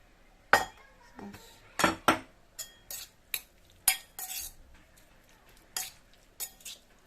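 A spoon stirs paella ingredients in a bowl, producing a series of irregular clinks and scrapes against the bowl, close and fairly quiet with short gaps between strokes.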